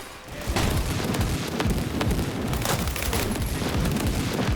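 Dense, continuous rapid gunfire from hip-firing in the shooter game World War 3, loud and close with overlapping booms and shots filling the whole stretch, no talk.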